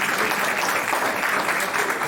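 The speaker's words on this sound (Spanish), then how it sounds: "Pastor Richard Latín, Pastor Iván Ruiz, para quienes les pido un aplauso, hermanos." Congregation at a church service applauding pastors, dense steady clapping filling the space with no break, loud and close.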